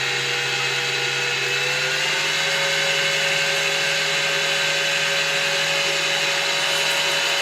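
An electric mixer beats eggs and sugar for homemade chocolate mousse with a loud, steady whirring drone that holds unbroken and close throughout, with no talking.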